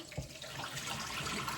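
Water runs from a kitchen tap in a home in America, a brief, close, steady splashing stream lasting under two seconds.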